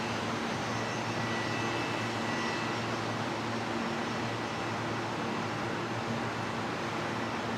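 A Fokker 100 airliner arriving at Brisbane Airport, a steady, moderately loud engine roar with a faint tonal whine, holding evenly and heard alone.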